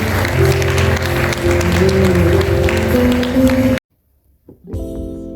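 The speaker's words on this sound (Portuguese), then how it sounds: "E uma salva de palmas no nome do Senhor Jesus." Applause from a church congregation, a dense sustained burst of clapping that fills the space loudly, then cuts off abruptly into near silence before a brief return of sound.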